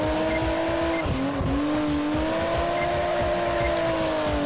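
A car drifting on a wet track in the video game Project Gotham Racing 4, with a steady loud engine drone whose pitch dips and climbs as the tires slide.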